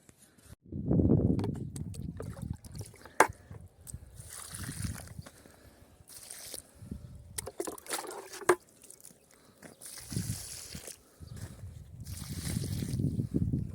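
Water splashes and trickles in short separate pours into planting holes in dry garden soil, with pauses and small clanks between them, close and fairly quiet.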